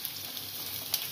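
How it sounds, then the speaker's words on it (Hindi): Carrots sautéing in a pan for noodle spring rolls, giving a steady soft sizzle and fry with one brief louder crackle near the end, heard alone. "इसको थोड़ा सा सॉटे करना है।"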